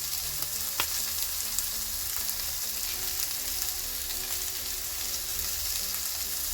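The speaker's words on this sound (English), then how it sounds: "And get that all sauteed together." Red pepper, red onion and green onion sauteing in a non-stick pan, giving a steady, even sizzle with faint stirring clicks that carries on alone throughout.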